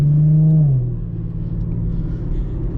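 Infiniti G37 with a muffler delete and quad tips, driven at night, gives a loud, close engine drone whose pitch drops after the first second and then settles into a steady rumble, with no talking.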